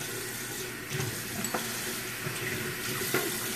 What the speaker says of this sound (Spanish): Voy a usar el agua tibia, pero más fría que tibia